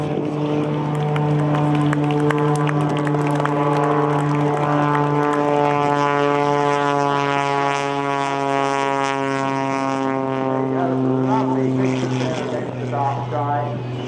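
A Pitts S2S muscle biplane holds knife-edge flight during an aerobatic air display. Its propeller engine drones loud and steady, pitch slowly shifting as it passes, beneath an announcer's commentary.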